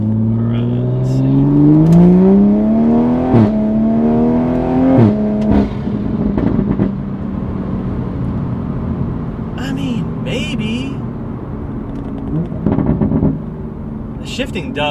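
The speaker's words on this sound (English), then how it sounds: "Shifting does sound quick, like it sounds fast." A Toyota Supra with a faster-shifting transmission accelerates while cruising. The engine note climbs loud and near, cuts sharply at each quick gear change, then settles into a lower drone, and occasional voices can be heard.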